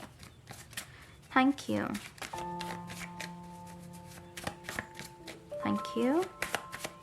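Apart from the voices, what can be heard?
shuffling a handmade card deck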